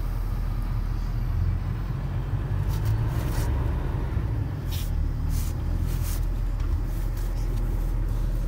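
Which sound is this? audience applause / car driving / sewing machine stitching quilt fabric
car driving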